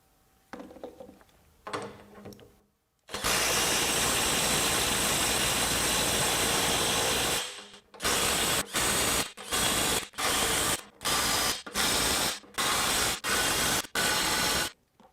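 Kobalt 24V compact 1/2-inch impact wrench run forward on speed 3 with a fully charged 4 amp-hour battery: a long loud continuous hammering burst, then a rapid series of short sharp impact bursts with gaps between them.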